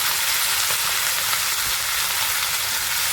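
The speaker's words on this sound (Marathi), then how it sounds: "आता ही भाजी आपण परतून घेऊया चांगली." Fenugreek leaves and chillies fry in a hot pan with a dense, steady, loud sizzle that holds evenly throughout, close by and with no talk.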